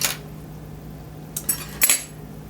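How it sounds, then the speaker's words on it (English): A butter knife handled close by makes a short metallic rattle at the start, then a few light clinks and a brighter scraping clatter near the end against a quiet background. "This is a butter knife."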